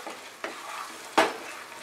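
Bengali rui fish curry masala with yogurt sautés over a high flame, giving a steady sizzle broken by scraping stirs and one louder spatula clatter near the end.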